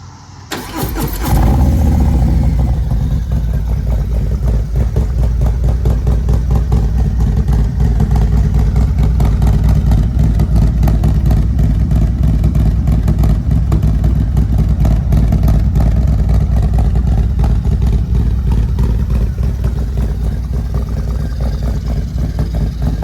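A Harley-Davidson Low Rider ST motorcycle with about 3,000 miles fires up after a brief start, then holds a loud, steady, close engine rumble with a dense low throb for over twenty seconds, with no one talking.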